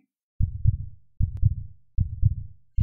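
Dramatized heartbeat sound effect for an eerie horror trailer: three and a half deep, booming lub-dub thumps in a slow, steady rhythm, loud and close against silence, with no voices.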